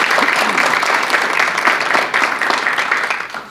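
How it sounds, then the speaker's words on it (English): Applause from a seminar audience thanking the event's sponsors at a PACE Association gathering in Princeton, New Jersey: a dense, steady wash of many hands clapping close by, sustained throughout. "So if you just give them a round of applause and thank you guys."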